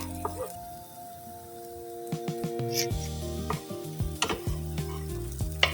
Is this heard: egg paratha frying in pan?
yes